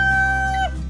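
A rooster crows in one brief, drawn-out tonal call that rises and then falls away, heard over a steady low background hum.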